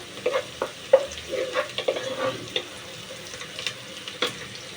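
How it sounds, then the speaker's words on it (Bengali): Chopped onions fry in a pan on a home kitchen stove, a faint steady sizzle broken by scattered scraping knocks as they are stirred, close by with no voices. "পেঁয়াজ কুচি দিয়ে ভেজে নেব। পেঁয়াজ কুচিগুলো ভেজে নিচ্ছি।"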